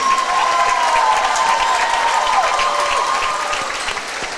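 A crowd in a gym applauds the 56th District All-District girls basketball team at a championship game, dense steady clapping with some cheering that stays loud and slowly fades near the end.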